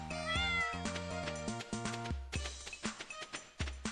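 A cat in the Stardew Valley farming game lets out a quick series of bright, close meows, one after another, over cheerful game music with no talking.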